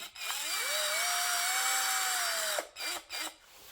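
A pink Deko 20V cordless drill runs in reverse to open its chuck, giving a sustained high whine for over two seconds, then a few short bursts, close and alone.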